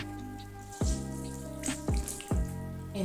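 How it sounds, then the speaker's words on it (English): Water splashes and drips over a newborn baby in a bathtub, heard as a few soft separate splashes over a steady background hum, close and fairly quiet. "Pour water"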